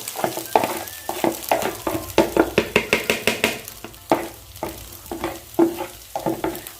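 Rice tossed into a hot pan with curry leaves sizzles steadily while a spoon stirs it in quick, rhythmic scraping strokes, close and clear with no talking.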